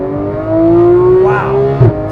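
Porsche 991 GT3 fitted with a Dundon Motorsport exhaust and headers accelerating hard, a loud rising engine note climbing through the revs and briefly dipping as if for a gear change, heard from close by.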